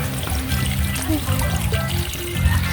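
Water pours steadily into a cooking pot with a continuous trickling splash, close by, over a busy background of clatter.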